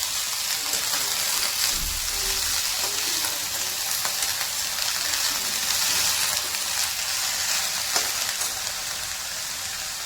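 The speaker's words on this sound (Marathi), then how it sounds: "आपलं थोडंसं तेल टाकून परतून होईपर्यंत आपला भाजी व्यवस्थित गरम झालेली आहे" Ghevda beans stir-fry in hot oil in a pan, giving a steady, close sizzle with occasional stirring scrapes that runs unbroken for about ten seconds, with no voices.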